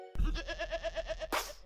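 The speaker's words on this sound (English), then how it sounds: "Sheep." A sheep in a baby learning game gives one clear, loud, wavering bleat with a rapid pulsing vibrato, followed by a short bright chime.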